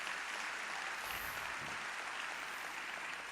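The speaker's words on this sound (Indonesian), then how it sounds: "Mari kita beri tepuk tangan untuk Riwai." Brief burst of audience applause at a product presentation, a dense wash of clapping that stays steady and even throughout, heard fairly quietly with no talking over it.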